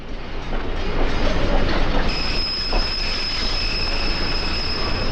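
Rock Island passenger locomotive No. 652, one of a 1952 batch, hauls a train through Chicago's southwest suburbs. It rumbles loudly and close by, with rhythmic clickety-clack from the wheels and a high, sustained wheel squeal joining partway through.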